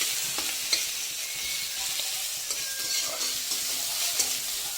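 Onion frying in hot oil, a loud steady sizzle with occasional soft clinks and scrapes as it is stirred in the pan, no voices.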